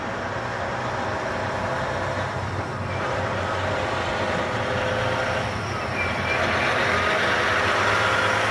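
A used Peterbilt 387 semi truck with a 13-speed transmission idles steadily nearby, a continuous low engine rumble holding at an even level throughout with no talk over it.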